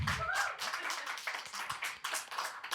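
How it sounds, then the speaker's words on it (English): An ACMies 2025 awards ceremony crowd applauds, with scattered, uneven claps that start thick, thin out, then pick up again at moderate volume. A faint voice or murmur sits under the early part. "Give him a round of applause"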